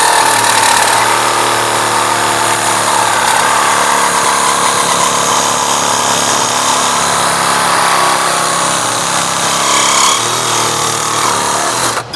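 WOYOFADA cordless handheld reciprocating saw cutting, a loud, harsh buzzing rasp running continuously for twelve seconds with a rapid blade stroke and slight shifts in pitch under load, no voices.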